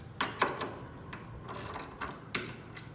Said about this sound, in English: Got my ratchet.